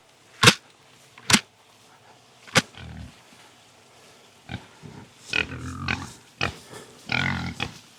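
Pastured pigs grunt and snort in several short, loud bursts, then a cluster of rougher, overlapping grunts toward the end, with no talking.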